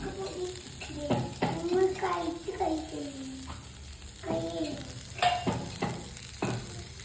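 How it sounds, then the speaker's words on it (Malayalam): Spice powders stirred into paneer butter masala frying in a pan, a steady sizzle broken by repeated scraping strokes of a spoon, with someone speaking softly over the cooking. "നല്ലോണം ഇളക്കി കൊടുക്കാം"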